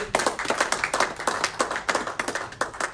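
A congregation at a Wednesday church service claps together in a steady, lively rhythm, a dense run of sharp hand claps with no talking over them.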